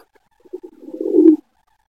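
A Lahori pigeon gives a single soft coo, a few low stuttering notes swelling into a longer rolling call, close and alone.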